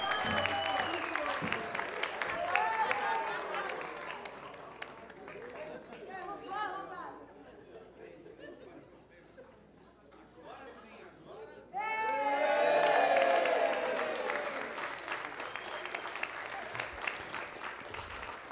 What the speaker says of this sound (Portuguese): Uma salva de palmas para os que não puderam estar presentes nesse momento emocionante.